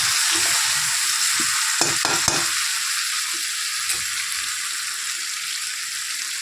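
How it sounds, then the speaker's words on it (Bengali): Potatoes frying for aloo dum in a home kitchen, a steady bright sizzle of hot oil with a few soft stirring knocks and scrapes, close and even, no voices. "আলুটা ভাজছি, আলুর দম করবো।"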